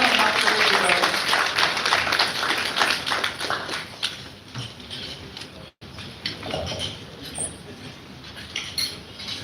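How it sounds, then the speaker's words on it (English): An audience applauds at a PICA Jamaica event, a dense, continuous patter of many hands clapping that holds steady for several seconds, briefly drops out, then carries on a little softer. "clap until she takes over"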